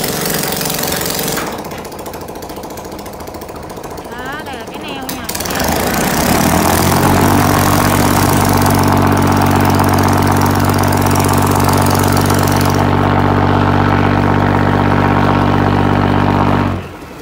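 A barge and tugboat engine runs loud and steady close by, its low throbbing drone swelling after a few seconds and holding strong, with a brief mechanical rattle in the quieter opening stretch.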